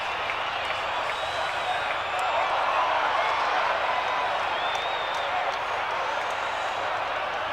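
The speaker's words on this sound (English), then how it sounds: "Crowd roared." A big stadium crowd at a 1987 VFL Australian football match between Melbourne and Collingwood at the MCG roars in a steady, broad wash of noise that holds loud throughout.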